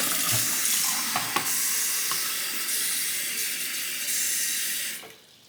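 Tap water pouring steadily into a cup for sharpening-stone slurry, a continuous close hissing rush with a few small splashes, cutting off abruptly near the end.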